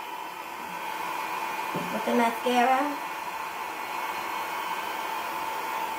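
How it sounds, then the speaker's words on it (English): Hair dryer running on its low setting during a hair-care routine for locs, a steady whooshing hum that fills the whole stretch while a person speaks briefly over it. "So I'm going to have my dryer on at the same time on low"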